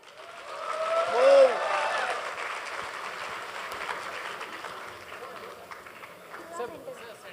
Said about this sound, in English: थोड़ी तालियां हो जाए.